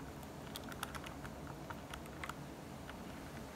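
Quiet, rapid clicky keystrokes on a Marvo Scorpion KG901 mechanical keyboard with blue switches, an irregular patter of taps heard close over a steady background hiss.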